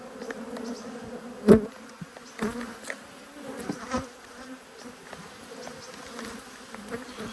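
Near, steady humming comes from a crowded honey bee colony at an open apiary hive, broken by a sharp knock early on and a few softer bumps as frames are handled.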